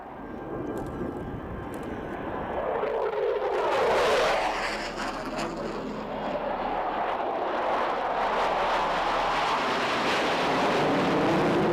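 A formation of four aircraft passes over an airshow, a broad loud engine roar that swells to a peak and then holds steady, with no voices.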